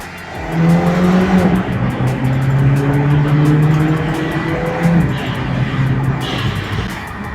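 A Mini Cooper engine roars steadily under acceleration near Sepang, with a throaty intake rush and pitch climbing and dropping between gear changes, close and loud.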